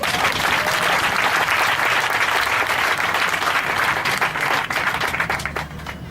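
Congregation in a church applauding together, steady dense clapping sustained throughout and tapering slightly at the end, loud and close with no talk over it.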